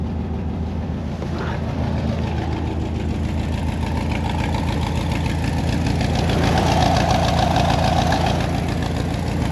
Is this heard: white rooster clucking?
no